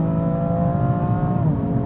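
BMW M3 pulling away hard from a launch-control start in a drag race, a loud, steady engine roar with rising harmonics that shift as it changes gear near the end.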